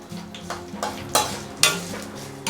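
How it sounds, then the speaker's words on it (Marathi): Curry leaves frying crisp in oil for chivda, with a low crackling sizzle punctuated by several bright stirring scrapes and clinks of a spoon against the pan. "इथे मी कढीपत्ता पण एकदम मस्त असा तळून घेतलेला आहे तुम्ही बघू शकता आवाजावरून किती क्रिस्पी असा छान असा तळलेला आहे"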